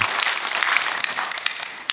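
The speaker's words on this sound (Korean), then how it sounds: "크게 박수 한번 해주셔요" Audience applause for the women who helped at a Korean church Bible lecture, a dense, steady wash of many hands clapping that carries on without a break for two seconds, with no voices over it.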